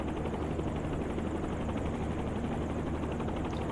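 A helicopter's engine and rotor hum steadily from inside the aircraft during a steep training turn, a constant droning roar with no pauses.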